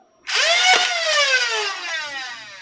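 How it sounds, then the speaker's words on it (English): An NG-2 Goblin semi-auto foam blaster with a talon mag spins up its flywheels and fires, a sharp rising whine that starts abruptly, peaks and holds as a steady loud motor tone before slowly easing, with no talk over it. "you rev the blaster and then you pull the trigger"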